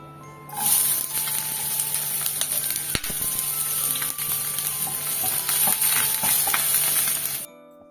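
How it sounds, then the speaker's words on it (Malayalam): Chopped onions sizzle and crackle loudly in hot oil from about half a second in, a steady dense frying hiss with occasional pops and a faint clink, cutting off just before the end. "എണ്ണ ചൂടായി തുടങ്ങിയിട്ടുണ്ട് ഞാനിതിലേക്ക് സവാള ഇടാണ്"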